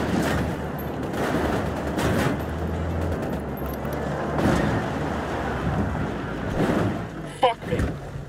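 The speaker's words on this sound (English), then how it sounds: "Open fire." Gunfire in a Ghost Recon Wildlands firefight breaks out as steady, dense crackling under wind and ambient noise, with a few louder bursts near the end and voices talking over it.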